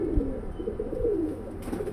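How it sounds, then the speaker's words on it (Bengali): A silver pigeon coos softly up close, low rolling calls repeated over a faint background hum. "এটা একটা হিস্টোরিক্যাল পিজন"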